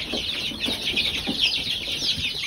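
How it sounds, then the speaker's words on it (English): Baby chickens clucking and cheeping together in a coop alongside ducklings, a steady chorus of quick, high, close peeps and soft clucks with no talk. "So here are the little baby chickens."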